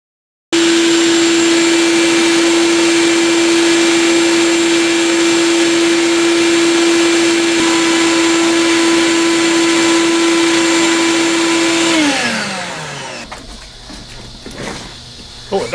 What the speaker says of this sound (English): I think I'll grab my vacuum and vacuum off the valley.